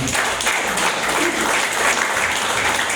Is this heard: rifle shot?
no